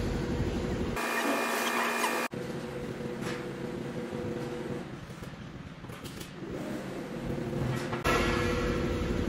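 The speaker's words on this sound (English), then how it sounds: "So we make the machine go to fourth color first." A YunFu embroidery machine being switched to its fourth color for mending, with a whirring mechanical hum, an abrupt change in tone about a third of the way in, and a renewed motor sound near the end.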